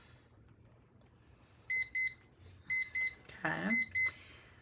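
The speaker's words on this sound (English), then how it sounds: "Thank you, timer. We hear you." A timer alarm beeps in quick pairs of shrill electronic tones, repeated three times with short pauses, clear and fairly close, while a person moves about and briefly speaks in a quiet room.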